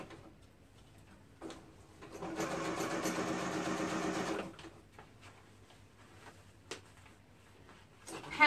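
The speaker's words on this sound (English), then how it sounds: "I'm just going to hem across the straight bottom" A sewing machine stitches a straight hem across the bottom of a color-blocked tunic, running in one steady burst of a couple of seconds between quieter handling clicks and light rustling.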